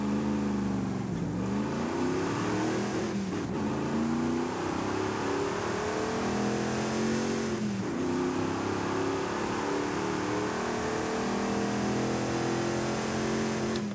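A Toyota Tundra TRD Pro pickup truck engine in Forza Horizon 5 hums and revs repeatedly, pitch climbing and dropping in several surges, loud and continuous with a game-like synthetic tone.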